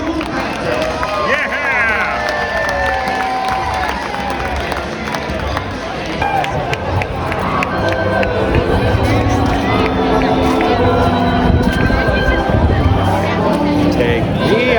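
A large crowd at a River Cats baseball game cheers and claps in a steady, loud wash of applause and shouting, with a voice talking over the noise.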